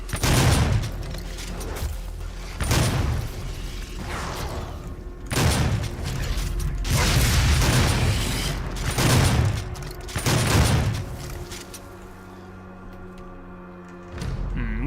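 Heavy double-barreled super shotgun blasts in Doom 2016, about six loud booming shots spaced a second or two apart, each with a sharp crack and rumbling tail, over steady game ambience.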